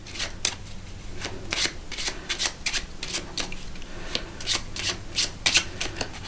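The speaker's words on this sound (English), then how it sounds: "I want you to take these cards and give them a good mix up." A spectator mixes a deck of playing cards with repeated riffling, rustling bursts, close and fairly loud, in an uneven rhythm of quick shuffles and short pauses, with no talking.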